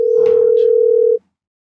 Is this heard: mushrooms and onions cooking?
no